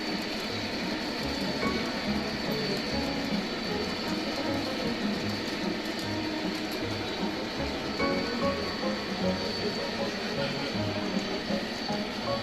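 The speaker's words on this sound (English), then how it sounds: "The lights and sounds and motion of our Lionel train town." At the 2018 Colorado State Fair, a Lionel model train runs around a layout with a steady rumbling clatter of wheels and track, over a busy hall's background noise, continuous and moderately loud.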